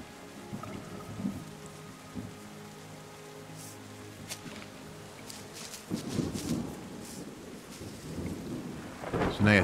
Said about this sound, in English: you can hear thunder and lightning